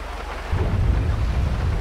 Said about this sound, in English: we got a serious storm coming in through here